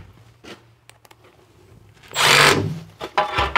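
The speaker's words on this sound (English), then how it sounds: "Now I'll just pop a couple of screws in there" A few light knocks, then a short powered whirr of a drill driving a screw into a wall batten, followed by scattered handling clatter.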